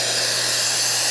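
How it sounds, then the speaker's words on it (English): Hot water valve opened on an Alex Duetto 3 espresso machine, giving a loud steady hiss with a low constant hum underneath. "we're gonna test hot water by just opening the valve."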